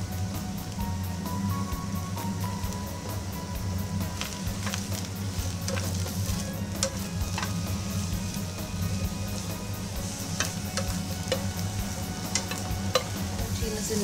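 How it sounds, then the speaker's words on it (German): Zucchini frying in a pan, a steady dense sizzle and crackle running throughout with occasional sharper pops and light stirring clicks, close and continuous, no voices. "Als erstes brate ich die Zucchini an"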